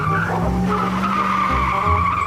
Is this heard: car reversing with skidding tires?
yes